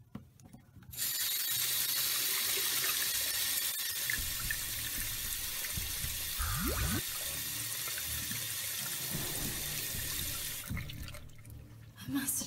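Tap water runs steadily into a sink in a video game scene, a continuous hiss of pouring water that stops abruptly near the end, with a brief rising squeak partway through and no talk over it.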